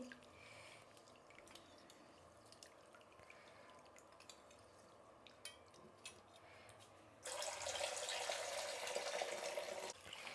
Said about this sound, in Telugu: ఫస్ట్ మనం బియ్యం కడుక్కునేస్తాము